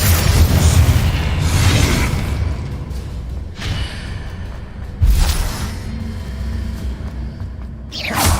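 Confringo blasting spell explosions in the Hogwarts Legacy video game: a loud booming blast rumbles at the start, then a second sharp burst hits around the middle, with a softer blast at the end over continuous low rumble.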